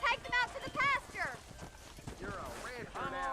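Horse hooves clip-clop in Red Dead Redemption while cattle are herded, with short runs of steps and neighing-like tones mixed in, under near continuous talk from a player.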